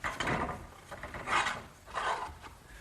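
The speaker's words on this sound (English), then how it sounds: "Now the conduit just gets slipped through the hole I drilled and through the eye bolt." Metal conduit slides through a drilled hole in a wooden garden swing frame and an eye bolt, giving three close scraping, rasping rubs of metal against wood, each about half a second long.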